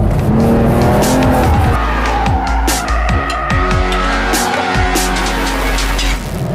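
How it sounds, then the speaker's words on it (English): A 2021 BMW 4 Series coupe drifts into oversteer, its tires squealing loudly and continuously over a strong, rising and falling engine note, with no talking. "And here you see a little bit of oversteering."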